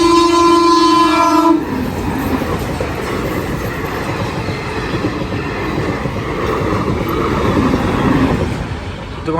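A train horn blares briefly, then a train rumbles past nearby at a railway crossing with loud, continuous clattering of wheels on rails.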